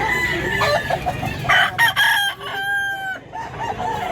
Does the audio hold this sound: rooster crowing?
yes